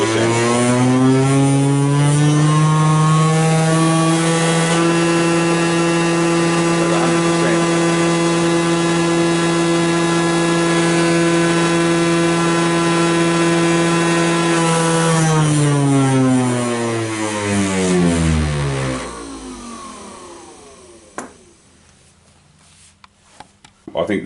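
A Banggood DC motor on a speed controller runs at full speed with a loud, steady, high-pitched whine, then spins down with a falling pitch and fades out, leaving a few faint clicks.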